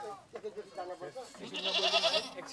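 Goats bleat in a Nepalese forest, several wavering cries that rise and overlap, close and fairly loud, with a voice talking over the first part.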